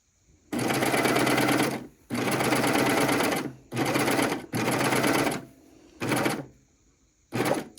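Sewing machine stitching fabric with the blade lowered, running in six bursts of rapid mechanical whirring separated by short pauses, close and loud.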